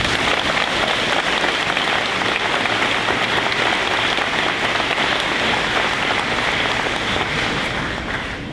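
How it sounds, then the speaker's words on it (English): An audience at a 2015 GESS graduation ceremony applauds in dense, sustained clapping that fills the hall at steady volume and fades slightly at the end. "Please join me in a round of applause for everyone who has made this event possible."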